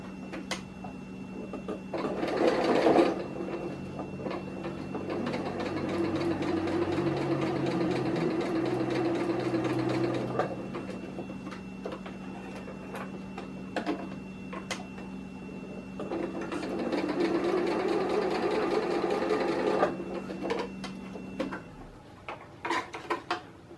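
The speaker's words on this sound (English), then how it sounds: "now I'm going to make my diagonal stitch for the cross stitch" A sewing machine sews a diagonal line of a cross stitch on a shoulder strap for a folding table, giving two long bursts of rapid, even mechanical whirring and needle clatter, each several seconds long. A brief pause separates them, and a steady low motor hum continues underneath.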